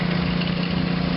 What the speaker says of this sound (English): John Small from Palisade, 1954 model 500 Case diesel.